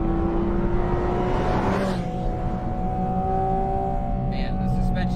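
A Porsche 718 engine rises in revs after a downshift to second gear on a mountain road at altitude, a loud steady drone with a brief swell partway through and a faint chirp near the end.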